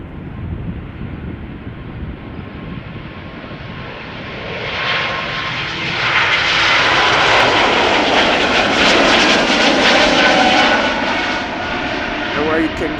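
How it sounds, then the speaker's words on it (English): A jet airliner rotating on takeoff at Schiphol Airport, its engine roar building from a distant rumble into a loud, broad, sustained blast that peaks as the plane passes close by and then begins to ease. "where you can get beautiful engine sounds when they pass by."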